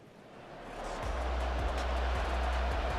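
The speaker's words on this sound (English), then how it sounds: "The rain set to continue as we are underway in the 2nd half." Rain and thunder during a Texans versus Packers game in the football video game Madden 24, a steady hiss of rainfall rising in volume over a deep low rumble with repeated soft thuds.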